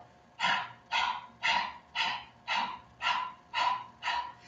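A person pants like a dog as a breathing exercise, with eight rhythmic, breathy puffs at an even pace, close and clear with no talk; the voice imitates a panting dog.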